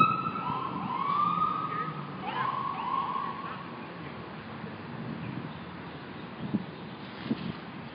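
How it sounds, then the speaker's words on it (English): Emergency sirens near a Honolulu park close to a hospital and a police station, wailing at a distance under steady outdoor city noise. "There are sirens all the time."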